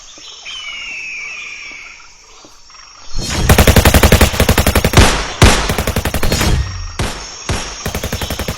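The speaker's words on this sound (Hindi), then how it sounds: "चुपचाप फायरिंग करो" Rapid automatic gunfire in a jungle firing drill, loud and close, bursting in repeated volleys with short gaps after a quieter stretch of forest ambience with insect and bird sounds.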